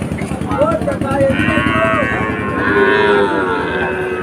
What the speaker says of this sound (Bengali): এখানে অনেক বাছুর দেখা যাচ্ছে।